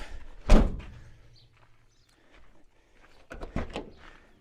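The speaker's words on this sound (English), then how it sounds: "there's a door in the back also, which you can open up" Rear door of a small East German car at a farm car show: a sharp close thunk of the latch and swing, then quieter rattles and a second cluster of clunks as the door moves again outdoors.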